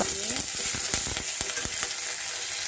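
Chopped ginger sizzles in hot oil as a tempering for sabu khichdi, a loud, continuous crackling fry close up with sharp spatters and stirring knocks, and a voice speaks faintly beneath it.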